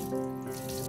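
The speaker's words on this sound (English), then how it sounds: "We pour the water over the right hand twice until the wrist and the hand are completely wet" Water poured from a cup over a hand and wrist during ritual handwashing before bread, a steady close splashing trickle lasting about a second with no talk.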